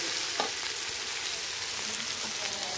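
Onions fry in a large kadai over a wood-fired stove, making a loud, dense, unbroken sizzle close by, with faint stirring scrapes mixed in and no talking.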